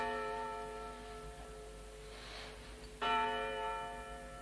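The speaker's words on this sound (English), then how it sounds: "why don't they stop ringing that bell? They've been ringing it day and night." A church bell rings repeatedly, its long resonant tones hanging and overlapping, with a fresh strike at about three seconds; fairly distant and otherwise quiet.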